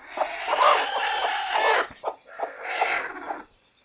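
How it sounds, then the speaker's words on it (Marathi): A broody village hen sitting on eggs in a container gives low, throaty clucks and murmuring growls up close, in two drawn-out bouts with short clucks between. "पाहू शकता आता ही कोंबडी कशी बसते अंड्यावर"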